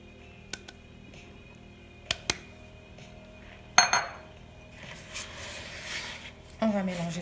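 Chocolate chip and pecan cookie dough being mixed in a bowl after cornstarch, baking soda, salt and flour are added: sharp, isolated clinks of a utensil against the bowl, then scraping and stirring noise in short bursts.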